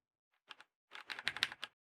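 Quiet keystrokes on a Gamesir GK300 keyboard: a couple of isolated taps, a short pause, then a quick burst of rapid clicking typing, close and alone.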